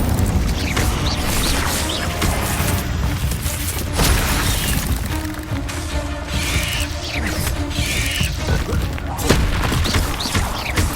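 Spell effects from the video game Hogwarts Legacy as the Incendio fire spell is cast, loud dense booms and crackling bursts that roll continuously and overlap one another throughout.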